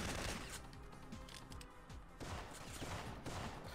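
Gunfire in the video game Syphon Filter on hard mode comes as rapid bursts of shots, faint and distant in the mix, clustered across the stretch with short gaps between volleys.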